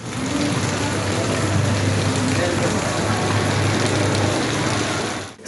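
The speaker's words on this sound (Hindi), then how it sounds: "कराची में मौसम सरमा की पहली बारिश शहर में जल थल हो गया।" Steady first winter rain falling across the city of Karachi, a dense continuous hiss and patter of drops on surfaces, loud and even throughout, with a faint voice underneath.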